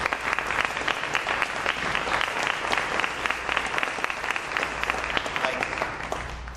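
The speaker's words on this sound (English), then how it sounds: "We'll give them a round of applause." Audience applause fills the room at a government announcement in Arkansas, steady dense clapping held at an even level throughout with no voices over it.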